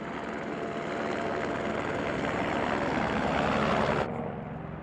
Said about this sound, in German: Jetzt findet der Helikopter tatsächlich eine Lücke und transportiert das Wegebauteam samt Material ins